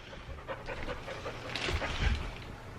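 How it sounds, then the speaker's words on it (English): A goofy pet dog pants rapidly and steadily at close range, a continuous breathy huffing that grows a little louder toward the end. "This goofy dog."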